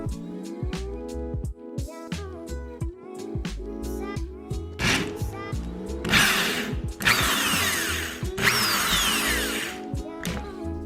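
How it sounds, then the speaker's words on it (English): A power drill driving screws through a shelf bracket into a wall, with short whirring bursts, stops and clicks, building to longer loud high-pitched runs, close by. "screwing the additional 1 or 2 screws in to make sure the bracket is nice and sturdy in the wall"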